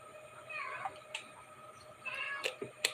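A cat gives a few drawn-out, wavering meows nearby in a quiet room, some with a whiny caterwauling edge, spaced over a few seconds.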